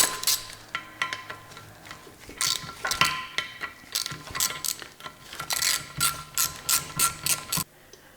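Ratchet wrench clicking in repeated bursts while loosening a bracket bolt on a Honda S800 engine during a rebuild, close and crisp, with short pauses between strokes.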